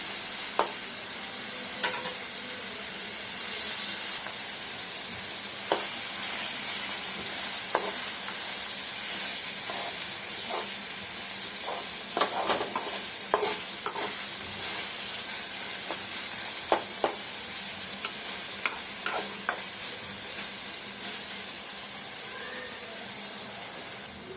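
Onion sautéing over high flame with curry leaves, cumin, ginger and garlic while prawns are prepared, a steady close sizzle with scattered stirring clicks and scrapes throughout, no talk.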